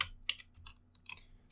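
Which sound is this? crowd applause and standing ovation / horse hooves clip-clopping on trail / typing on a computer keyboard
typing on a computer keyboard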